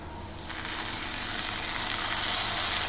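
Onion and tomato sauté in a pan for a drumstick and brinjal thokku, with a dense, even sizzle that swells after a quieter first half-second and then holds steady.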